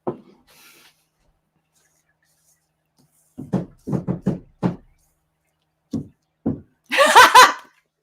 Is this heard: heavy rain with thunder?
no